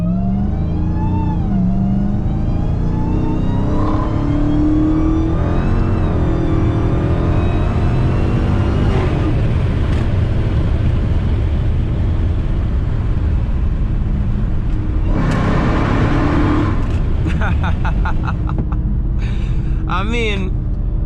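An 800hp Dodge Hellcat engine revs hard while driving, a loud, close, sustained roar that climbs and falls through several surges, with people talking over it and brief sharp engine bursts near the end.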